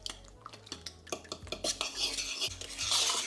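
A utensil clinks and scrapes quickly around a bowl as mince pie filling is mixed with brown butter, close and irregular, with soft wet stirring sounds building toward the end.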